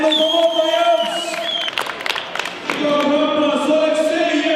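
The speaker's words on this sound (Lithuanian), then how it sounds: "Jūsų plojimai arena kovotojams!" An arena crowd at the final day of the Lithuanian Muay Thai championship applauds and cheers the fighters in a short burst midway. A loud amplified announcer's voice talks over the crowd before and after the burst.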